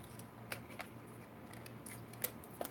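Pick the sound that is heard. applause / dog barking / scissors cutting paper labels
scissors cutting paper labels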